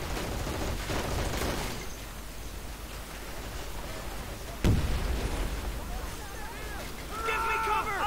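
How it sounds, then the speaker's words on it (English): Airstrike explosions in the Men of War: Assault Squad campaign, Battle of the Bulge, with a sharp blast midway over continuous battlefield rumble and gunfire, voices shouting in the clip. "I think it's time for more airstrikes"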